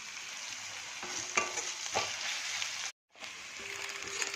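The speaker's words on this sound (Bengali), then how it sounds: "পেঁয়াজটাকে একটু লাল করে ভেজে নেব।" Chopped onions frying in a pan for a Bengali tangra fish chorchori, a steady close sizzle with a few soft stirring clicks and a brief drop to silence partway through.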